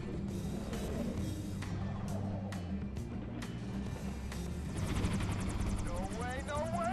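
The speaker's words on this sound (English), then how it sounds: "cool helicopters." Helicopters in the video game Wolfenstein: The New Order, with a loud steady rotor chop and engine drone, sharp gunfire-like bursts, and a rising whine near the end; a person talks over it.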